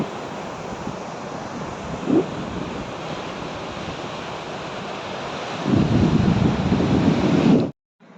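Ocean waves at Kotha Koduru beach near Nellore, a steady broad wash of surf with wind buffeting the microphone, a louder surge of breaking water near the end before it cuts off.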